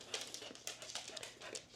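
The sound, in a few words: dog whimpering and panting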